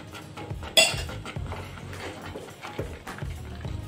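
Ghee is stirred into thick prasadam cooking in a pot on the stove, heard as quiet, close spoon knocks and scrapes against the vessel, with one sharper clink near the start.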